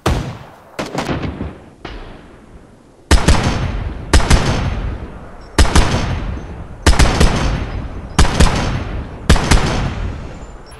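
Video game gunfire cracks out in sharp, loud bursts: a few quick shots at the start, then about six evenly spaced salvos, each trailing off briefly before the next.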